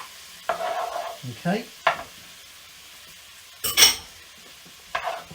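Honey being stirred into beef in a pan for medieval Egyptian tabahaja with pistachios, a few scraping stirs and soft sizzling in separate bursts, with one louder scrape near the end and a brief word spoken.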